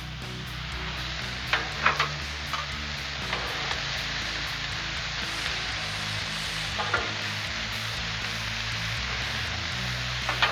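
Onion, pepper and broccoli are stirred on a hot Blackstone griddle. A steady, dense sizzle runs throughout, punctuated by occasional light scraping clicks of the spatula against the cooking surface.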